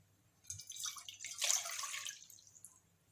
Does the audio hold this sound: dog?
no